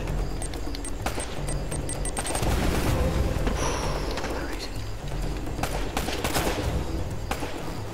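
Rapid gunfire and booms from the video game Uncharted: Drake's Fortune, fairly loud and sustained with bursts of shots, while a player talks over the action.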